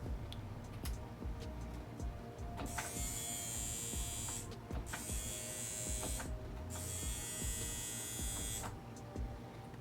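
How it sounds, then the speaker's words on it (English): A CNC X WE Plus tattoo machine dry-runs a Napoleon 003 round liner cartridge with a steady high buzzing in three close bursts, separated by brief pauses and faint clicks. "I want to dry run a Napoleon cartridge real quick."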